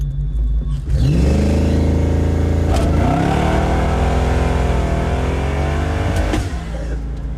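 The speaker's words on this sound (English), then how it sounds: "The old nitrous backfire." A car engine roars and revs hard, rising in pitch, with a couple of sharp nitrous backfire bangs cutting through the loud, steady drone.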